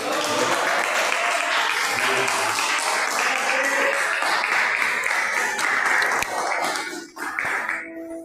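A church congregation applauds loudly and continuously, dense clapping that fades slightly near the end.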